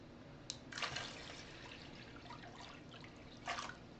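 Cups of water poured into a basin for acid-dyeing yarn splash and trickle softly, with a couple of brief louder pours over a quiet, continuous dribble and no talk.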